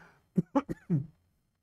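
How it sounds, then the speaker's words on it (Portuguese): A short run of four harsh coughs, close and clear, followed by quiet. "E é essa tosse."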